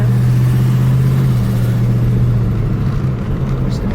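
The 440 engine of a 1974 Jensen Interceptor rumbles loud and deep as the car drives, the drone holding steady and then shifting in pitch, heard with a window down.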